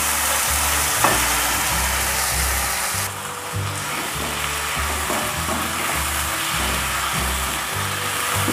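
Potatoes frying in a pan with chopped tomato and spice paste for a rohu fish and cauliflower curry, a steady close sizzle with stirring scrapes throughout, no talking.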